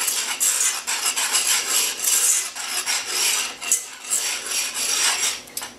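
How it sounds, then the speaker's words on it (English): A whisk scrapes briskly through dry sugar and cornstarch in a bowl, making a continuous, close rasping and rubbing sound with quick rhythmic pulses and no speech. "So this is 1 cup of sugar, which I am now going to whisk together a little bit."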